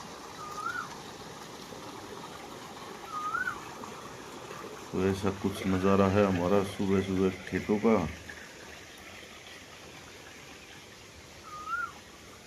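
Irrigation water runs steadily through a field channel in a village on a summer morning, beside spinach and jowar plots: a continuous soft rushing wash with faint birdcalls, and someone talks over it for a few seconds midway.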